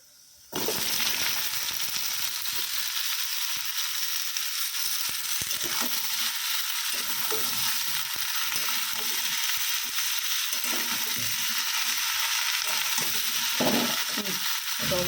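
Dal poured into a hot pan bursts into a loud, continuous sizzle, with scraping stirring strokes throughout and no talking.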